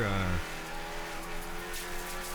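Production-class race cars run on the Summit Point raceway, one engine revving hard briefly and then dropping to a steady distant drone of the field.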